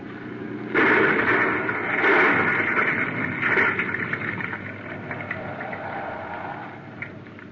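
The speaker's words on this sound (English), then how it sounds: "Kill the motor." A boat motor runs steadily with a rough, broadband drone, surging louder a few times early on and then settling into a sustained, moderately close hum with no talking.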